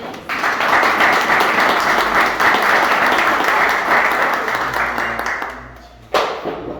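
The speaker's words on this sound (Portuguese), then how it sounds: "Dá uma salva de palmas." A congregation at a theology class in a church gives a steady round of applause, dense and close for about six seconds before stopping abruptly, followed by a brief burst of noise.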